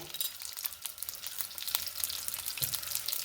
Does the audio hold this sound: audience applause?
no